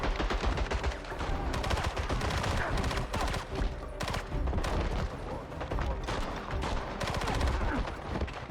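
Dense, sustained gunfire in the James Bond 007 Blood Stone video game on Xbox 360, rapid overlapping shots and machine-gun bursts filling the whole stretch at a steady loud level.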